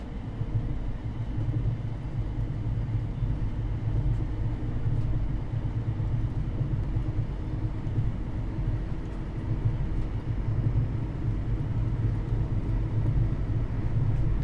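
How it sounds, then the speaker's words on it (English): A freight train in the Train Sim World 3 game rolls away across points, giving a steady, heavy low rumble that holds evenly throughout without a break. "there goes that freight train that we were following. Wagons snaking away across the points there."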